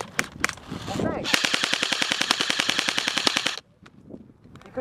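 Airsoft guns fire a rapid automatic burst of sharp, evenly spaced cracks for about two seconds during an outdoor team game, preceded by a few scattered single shots and followed by quiet.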